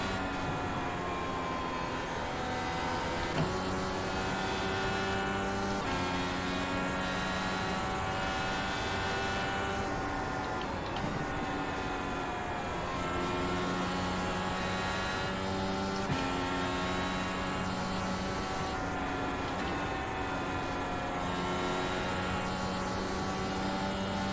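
IndyCar racing engine in the iRacing simulator at Iowa, a steady loud high-revving whine whose pitch drops and climbs again through repeated downshifts across the run, heard alone without talk.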